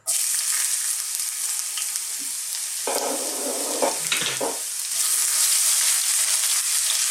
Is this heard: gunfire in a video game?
no